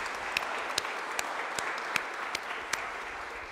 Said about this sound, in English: So I want you to give her a round of applause for all the work she's been doing.